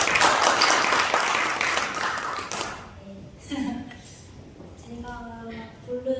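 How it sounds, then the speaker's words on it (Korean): Audience applause welcoming a performer onto the stage at a storytelling and singing event, a dense burst of clapping that fades out after about three seconds into quieter room sounds and speech. "박수로 맞아주세요."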